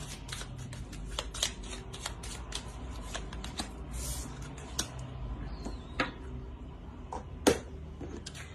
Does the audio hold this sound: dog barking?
no